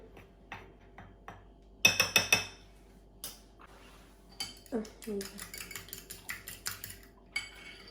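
A metal utensil scrapes and clinks against a bowl while sandwich filling is mixed with black pepper and red paprika, in short uneven bursts of close, fairly soft tapping and scraping with quiet pauses between.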